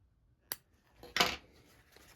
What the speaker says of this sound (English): I'm going to take my center mark and I'm going to make a little snip